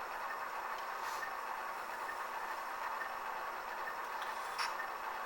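A Soundtraxx Tsunami decoder speaker in a model AC4400 diesel locomotive plays a steady, low, throaty idling engine sound, continuous and faint, with a couple of light metallic ticks.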